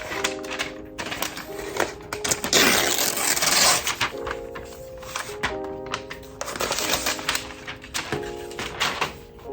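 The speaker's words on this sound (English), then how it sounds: "let us unwrap the MacBook" A new Starlight MacBook Air M2 is unwrapped from its packaging, with close rustling of plastic film and paper, scraping cardboard and soft knocks and clicks in irregular bursts, with no speech over it.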